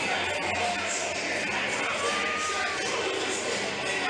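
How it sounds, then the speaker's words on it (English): Wrestling crowd at a heavyweight championship event roars and cheers continuously, a dense, loud wash of voices with shouts rising throughout. "This crowd is pumped. They are ready to go."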